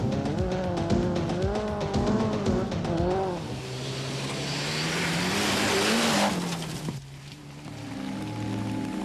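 Rally cars on a forest stage at the 1993 Townparks Rally in Ireland, engines revving hard and rising and falling in pitch. Tires squeal as a car powers past close by, then another engine drones steadily nearer.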